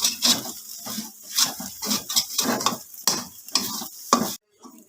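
Makhandi halwa being stirred and roasted in a pan, with repeated scraping strokes of a spoon through the thick mixture, close and fairly loud, in a steady rhythm that stops abruptly near the end.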